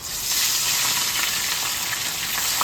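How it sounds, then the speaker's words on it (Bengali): Catla fish pieces rubbed with salt and turmeric sizzle and crackle steadily in hot mustard oil, a loud, dense frying hiss close by that holds constant with no talking. "তেল গরম হয়ে গেছে, এবার আমি নুন হলুদটা মেখে নিয়েছি, মাছটা দিয়ে দিচ্ছি এক এক করে।"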